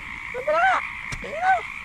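A frog near a cobra hunting spot in Sta. Rosa gives two separate warbling croaks about a second apart, close and clear, over a constant background chorus of night creatures with a brief click between them.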